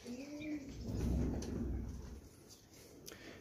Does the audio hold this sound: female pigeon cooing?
yes